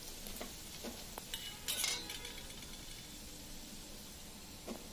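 Mushrooms fry in a pan with coriander powder, chilli powder and garam masala while a spoon stirs them, giving a soft continuous sizzle broken by a few sharp scrapes and clinks close by.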